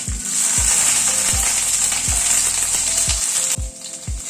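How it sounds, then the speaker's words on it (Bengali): Eggplant frying in oil left over from frying lentil dumplings, a continuous bright sizzle with rhythmic clicking and scraping from a utensil or stove, no voices. "এবার যেটুকু তেল আছে বড়ি ভাজার পরে বেগুনগুলোকে একটু ভেজে নিচ্ছি"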